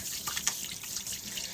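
Tap water running steadily into a sink for hand washing, a continuous close splashing hiss with small irregular spatters.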